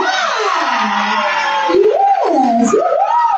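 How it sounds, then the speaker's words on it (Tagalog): Party guests at an 18th birthday celebration burst into loud, sustained cheering and shouting with a dense crowd roar, voices whooping and rising in pitch throughout. "maaari ko ba akong makarinig po muna mula po sa inyong lahat ng isang malakas na palakpakan na may kasamang sigawan dyan"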